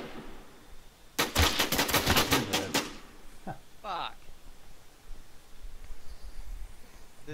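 Rapid automatic gunfire in a video game, a fast rattling burst of about a dozen close shots lasting under two seconds, followed by a couple of sparser shots and quieter background noise.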